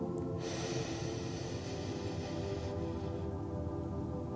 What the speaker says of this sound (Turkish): burnumdan derin bir nefes al.